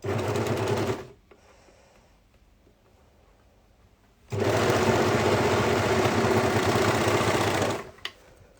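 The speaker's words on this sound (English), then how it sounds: "Now I'm going to overlock the top pieces." An overlocker stitching the top pieces of a dress, two bursts of fast, whirring machine stitching, a short one at the start and a longer run of about three seconds later, loud and close, with quiet handling sounds between them.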